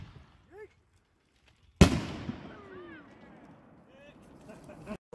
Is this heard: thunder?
no